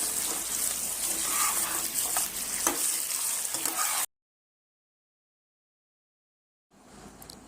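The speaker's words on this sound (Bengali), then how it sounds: "লবণ দিয়ে দেওয়ার পরে মাংসটাকে আবার মাখতে শুরু করতে হবে যাতে পুরোটা ভালোভাবে ভাজা হয়" Mutton frying with salt while being stirred in a pot, a close, steady sizzle with stirring scrapes, then a sudden cut to silence before the frying sound returns more faintly.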